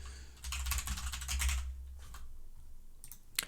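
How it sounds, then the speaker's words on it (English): Quick, close typing on a computer keyboard with a dense flurry of keystrokes, a short pause, then scattered single taps and one sharper final key press, with no talking. "So let's type that in."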